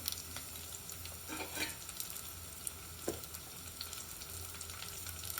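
Onions and green chillies fry in a pan with curry leaves for a masala dal, giving a steady, moderate sizzle with a few brief stirring clinks and no voices.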